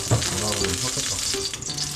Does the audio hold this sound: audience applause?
no